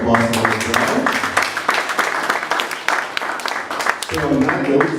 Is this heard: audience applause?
yes